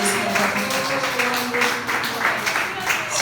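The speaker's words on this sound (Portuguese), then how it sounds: "Aplauda o Senhor em nome de Jesus" A church congregation applauds during a worship service, a steady wash of many hands clapping over sustained music and voices.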